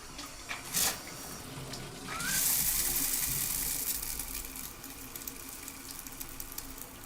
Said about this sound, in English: I hear the shower calling.